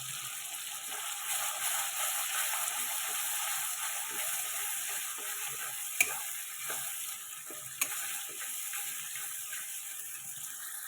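Mustard paste and poppy seed paste frying in a pan with bhola fish give a steady close sizzle, with a couple of sharp spatula clinks against the pan.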